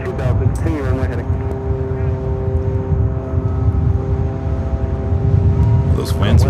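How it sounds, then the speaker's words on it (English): Heavy airliner going around and climbing away from the runway at LAX in strengthening winds, a loud continuous engine roar with steady droning tones, while people talk over it at the start and end. "I think we got ourselves a go-around. You're running out of space. Here we go, going around."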